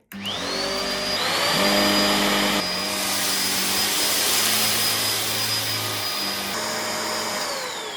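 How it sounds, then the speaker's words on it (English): Kenmore Progressive DU2001 dual-motor vacuum cleaner running on carpet: a loud, close whine that rises as the motor spins up, holds steady with shifting tone as the head moves, then winds down. "Time for the carpet test. Push the cleaner head down with your foot and select the carpet setting."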